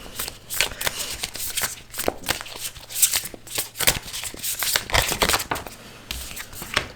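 Tarot cards being shuffled by hand, a continuous run of quick riffling and flicking bursts with short pauses, close and fairly loud with no talk.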